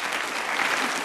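A steady wash of TV studio audience applause, many hands clapping together at an even, moderately loud level with no talking over it.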